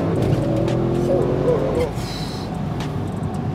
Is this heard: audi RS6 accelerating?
yes